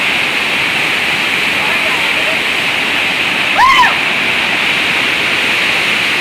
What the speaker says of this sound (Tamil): தண்ணி பாருங்க எவ்வளவு ஃபோர்ஸா வருதுன்னு.